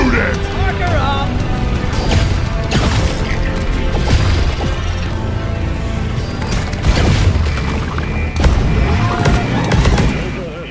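Frantic gunfire from dwarven miners in Deep Rock Galactic: rapid loud bursts and booming impacts layered continuously, with shouted voices mixed in throughout.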